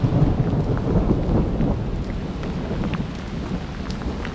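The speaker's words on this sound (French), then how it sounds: "je suis en plein sous l'orage" A thunderstorm on the GR70 hiking trail: low rolling thunder rumbles beneath steady rain pattering on the surfaces nearby, with scattered distinct drops, heaviest at the start and easing slightly, no voices.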